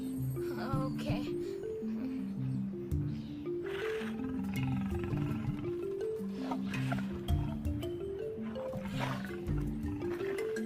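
Deep, rumbling lion roars rise repeatedly over a layered musical backing in a stage or studio scene, with a voice occasionally cutting through.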